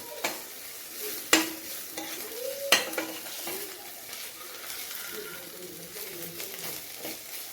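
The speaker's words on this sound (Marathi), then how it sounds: "त्याच्यामध्ये आपण एक चमचा आलं लसूण पेस्ट ॲड करूया आणि तिला पण व्यवस्थित फ्राय करूया" Ginger garlic paste fries with onion in a pan for a dry prawn masala, a soft continuous sizzle broken by a couple of sharp spoon knocks and light stirring scrapes.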